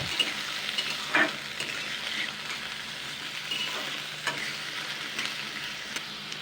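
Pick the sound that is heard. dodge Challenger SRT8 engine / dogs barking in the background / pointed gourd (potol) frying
pointed gourd (potol) frying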